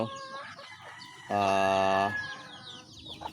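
Pet chickens being readied for a bath crow once, loud and close, in a sustained crow lasting under a second, amid softer clucking and chick peeping before and after.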